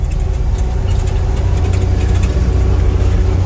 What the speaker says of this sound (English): We're only at 1900 RPMs on the motor